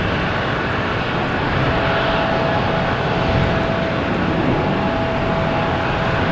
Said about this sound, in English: Something just landed. Here we go. It's JetBlue coming in from Orlando.